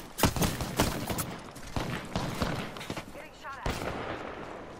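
Gunfire in the battle royale video game Apex Legends, with several sharp bursts of shots spread across the stretch, mixed with game effects and voices talking over it.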